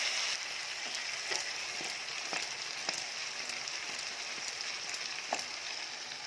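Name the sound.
spices and mutton frying and being stirred in pan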